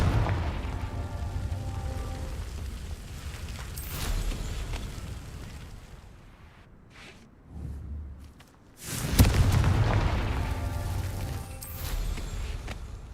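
Confringo explosion spells go off in a Harry Potter video game: two loud, booming blasts, one near the four-second mark and a stronger one around nine seconds, over steady game ambience and rumble.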